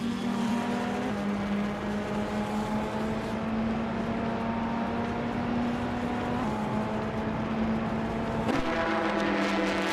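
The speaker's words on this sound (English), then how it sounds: "Maya is currently in 3rd place with the 2016 Audi R18" 2016 Audi R18 race car in a racing video game, a steady, close engine drone that shifts pitch as the car holds speed and then accelerates near the end.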